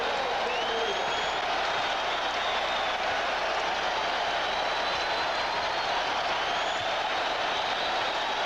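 Crowd at a New York arena during a 1984 Bulls–Knicks NBA game, roaring and cheering in a dense, loud, unbroken wash for the whole stretch, with a hint of voices blended in.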